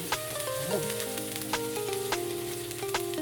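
Sautéing for ginataang papaya with malunggay and sardines sizzles steadily in a pan, a soft continuous frying hiss broken by a few sharp clicks and clinks of stirring, fairly close and without any talk.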